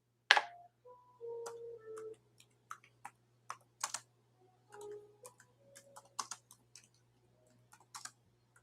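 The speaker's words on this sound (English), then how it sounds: "I'm just going to type it in." Keys clack on a computer keyboard in scattered, irregular taps, quiet and close, with a low steady hum behind and a few soft tones.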